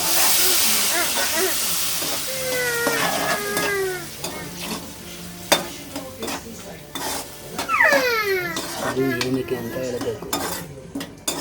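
Water poured into a sizzling egg curry masala of tomato, turmeric and coriander powder, bursting into loud hissing and steaming that crackles and settles, with pan and spoon clatter and some brief voice-like squeals.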